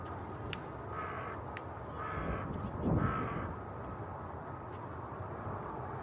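A crow perched in a tree caws three times in a row, set back at moderate distance over steady windy rumble outside Manchester Airport.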